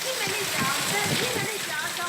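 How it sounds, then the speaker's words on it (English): Steady, heavy rush of water pouring from an overflowing gutter onto a veranda during rain, a continuous loud splashing downpour with no break. "that repair saw a stream turn into a downpour"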